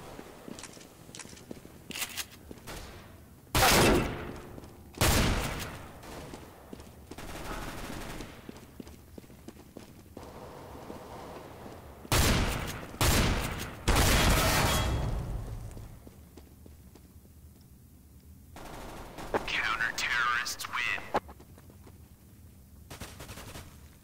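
Bursts of gunfire from a first-person shooter video game, loud rapid volleys and single shots spread across the stretch with quieter gaps and game ambience between them.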